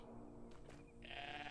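A goat bleats in the video game Everything, a short nasal cry rising out of a soft droning game background near the end, loud and close with no talk.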